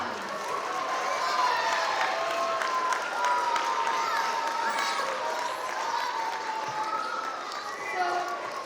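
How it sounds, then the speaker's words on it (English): An outdoor Earth Day crowd in a Hudson park cheers and claps for the mayor and the city; sustained applause mixes with shouts and children's voices, with people talking throughout. "Let's give them another round of applause"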